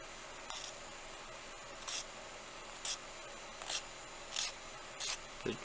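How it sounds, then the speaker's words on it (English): Sanding a cast resin dragon's eye by hand: short, soft scratchy rubbing strokes repeating about once a second, close and quiet over a faint steady background hiss, with no talking. "do a little sanding on this one"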